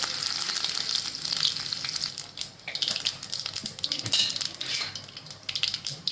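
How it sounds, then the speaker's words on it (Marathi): Mustard seeds, cumin and curry leaves crackle and spit in hot oil for a tempering, a loud, dense sizzle with sharp pops and occasional utensil clinks, no talk. "अर्धा चमचा मोहरी टाकते अर्धा चमचा जिरे टाकते फोडण्यासाठी कढीपत्त्याच्या पानं टाकतो पाच सात"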